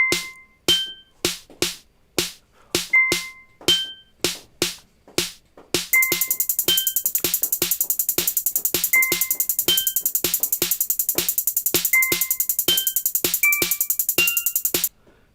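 A steady electronic drum beat: sharp, evenly spaced hits in a repeating pattern, joined midway by a dense, continuous high hi-hat layer. No voices.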